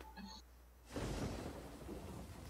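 Thunder rumbles in from near silence and rolls on under steady rain, a weather effect in the card game Gwent within The Witcher 3, heard without any talking.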